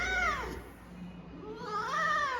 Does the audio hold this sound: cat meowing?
yes